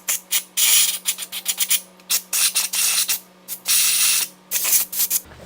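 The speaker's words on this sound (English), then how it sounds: "So you want to take some brake clean and a board brush, clean these holes out here" Brake cleaner sprays in sharp bursts into the pin holes of a brake caliper in a workshop, a loud close hiss repeating in uneven pulses of varying length.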